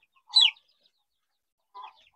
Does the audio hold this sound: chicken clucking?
yes